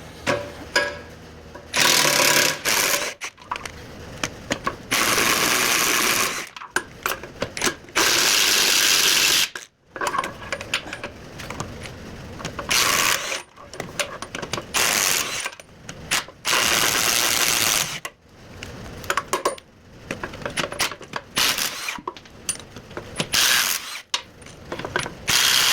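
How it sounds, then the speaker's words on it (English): A 1/2 inch impact wrench loosens the bolts on a tractor's front dual wheel hub, hammering in loud, rapid bursts, each lasting a few seconds and separated by short pauses, very close and dominant throughout. "I'm reducing to my 1/2 inch impact. Hopefully it'll zip these right off."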